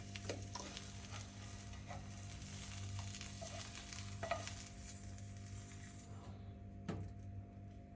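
An egg fries in a pan for a sandwich in a small kitchen, giving a soft continuous sizzle with occasional light scraping and clinks from a utensil, fairly quiet throughout.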